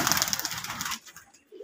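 A white-throated male Giribaz pigeon at a Rajshahi loft calls close by in one brief, rough burst lasting about a second before fading to quiet.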